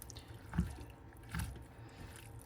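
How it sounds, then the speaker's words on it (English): Water is poured into a pot of stew, two short splashing bursts with light dripping between them, fairly quiet and close. "we're going to need to get a little more water in here"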